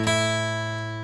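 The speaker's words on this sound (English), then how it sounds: "which will just be the open 5th string and the open 1st string" Open fifth and open first guitar strings plucked together once, ringing as a single sustained chord that slowly fades over about a second, alone with no other sounds.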